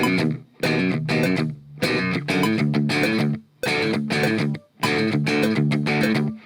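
Distorted electric guitar plays a modern rhythm riff of chugging chords in tight, repeated bursts with short gaps between phrases, loud and close, with no talk over it.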